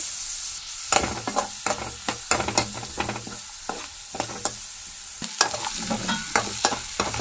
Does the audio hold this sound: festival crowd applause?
no